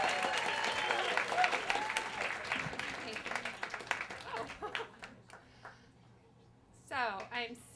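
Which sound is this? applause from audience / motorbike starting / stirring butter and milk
applause from audience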